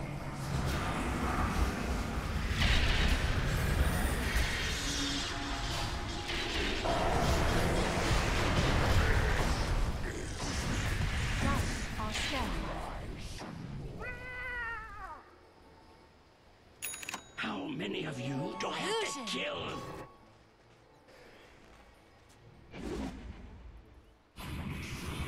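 Tower attack in the Dota 2 video game, dense rumbling blasts and combat effects at first, then sparser spell chimes, whooshes and sharp impacts, with no voices.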